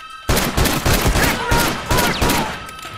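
Rapid gunfire in an online shooter video game, dense bursts of shots cracking one after another close by, loud and continuous for about three seconds with a faint voice underneath.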